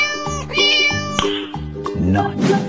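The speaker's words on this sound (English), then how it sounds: "Cat." A cartoon cat meows in short, high-pitched calls, mixed into a rhythmic children's tune with steady thumping beats and a splashy swell near the end.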